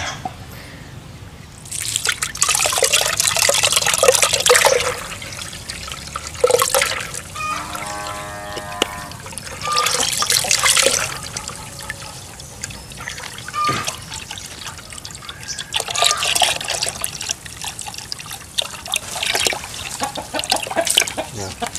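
Water trickles and splashes in bursts as fish medicine is poured into water for a snakehead fish farm, while chickens cluck in the background.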